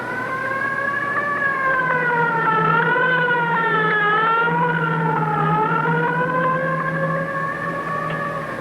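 A police car siren wails, rising and falling continuously, loud and steady, with no voices.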